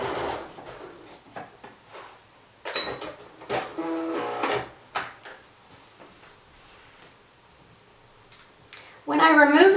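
A sewing machine runs in a short burst near the end, stitching the side seams of a baby boy romper, with speech-like sounds and clatter before it.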